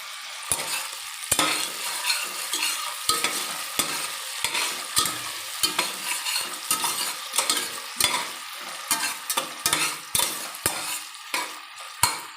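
Potatoes tipped into onions frying in a pan for mung dal khichdi, then stirred: steady close sizzle broken by repeated scraping and clinking strokes of a spoon against the pan, with no talk.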